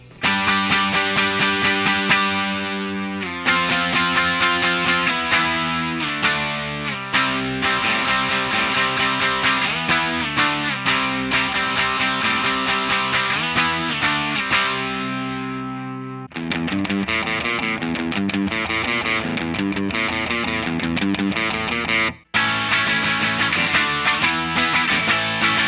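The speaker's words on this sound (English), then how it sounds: "this is kind of the sweet spot I've found in the Tube Screamer, where you can get a good amount of crunch" Electric guitar played through a Tube Screamer overdrive pedal in TS9 mode, giving a crunchy, mid-rich distorted tone as sustained chords and riffs ring out loud and alone, with brief breaks between phrases.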